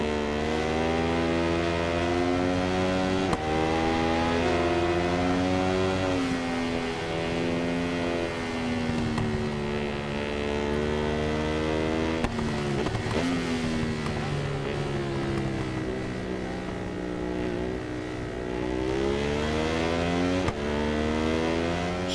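A racing motorcycle engine in the video game Ride 4 howls around Oulton Park during an endurance race, a loud, sustained high-revving whine rising and falling with gear changes throughout, with no voices.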